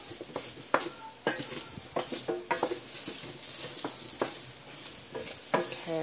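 Seasoned chickpeas and potatoes frying in a pan are tossed, giving a steady close sizzle with scraping, stirring knocks and pattering as the pieces shift.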